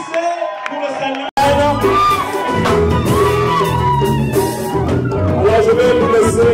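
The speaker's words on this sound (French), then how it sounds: "Applaudissez pour le Seigneur." A church congregation at a wedding ceremony claps and cheers for the newly married couple, a loud, dense crowd sound with whoops and shouts that bursts in after a brief silence and holds steady, with voices mixed throughout.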